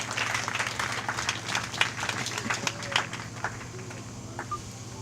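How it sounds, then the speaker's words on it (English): A crowd at a public gathering in Bomi County applauds after a speech, scattered clapping mixed with crowd noise and a steady low hum, continuing for several seconds. "Give her another hand of applause."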